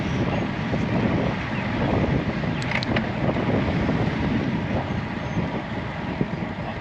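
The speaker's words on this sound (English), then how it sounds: "It's pretty windy out here." Strong, gusty wind roars across an Insta360 X4 camera on an aluminum mount on a Canyon Aeroad CF SLX road bike while riding, a steady loud rumble broken by brief faint ticks.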